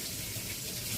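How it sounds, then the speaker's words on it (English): Filtered water runs from a kitchen tap into jars for home canning of chili beans, a brief steady gushing stream heard close and alone. "I'm just going to be filling these up with filtered water"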